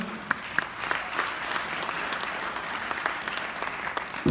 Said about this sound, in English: Is that worth a round of applause, yeah?